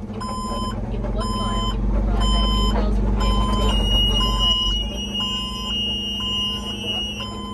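A car hauler truck's warning alarm from jackknifing too far, a loud repeating series of evenly spaced electronic beeps over a steady engine idle, with a higher continuous tone joining partway through.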